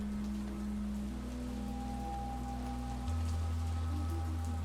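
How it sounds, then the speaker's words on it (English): Steady rain falling at night in a video game, an even hiss under sustained tonal background music, no talk. "It's nighttime and it's raining."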